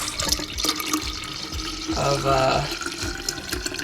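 About a litre of fresh tea pours into a kombucha culture, a steady splashing and trickling stream of liquid that swells briefly in the middle before settling back.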